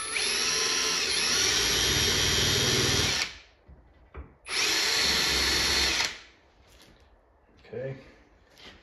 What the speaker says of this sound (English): where these holes need drilled